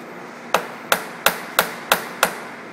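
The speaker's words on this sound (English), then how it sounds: "I'm going to tap this down to make sure that I'm sitting on the parallel." A metal block is tapped down onto a machinist's parallel, producing six sharp, evenly spaced knocks about a third of a second apart, close and loud over a quiet workshop background.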